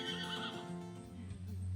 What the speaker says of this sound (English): Megan and Emerson are saying goodbye to one of the resident horses.